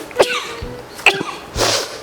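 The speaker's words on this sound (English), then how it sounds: "I have to sneeze." A person sneezes, triggered by rosemary seasoning while preparing a roast leg of lamb: two sharp, close bursts followed by a third breathy one, loud and alone.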